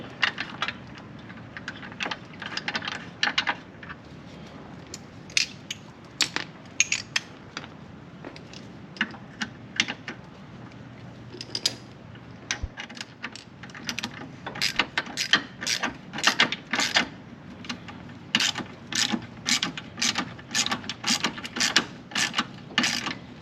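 Bolt being threaded into a Ford Bronco body mount with blue Loctite and tightened outdoors, a dense run of quick ratcheting clicks in bursts, close and fairly loud, with a pause before more rapid clicking.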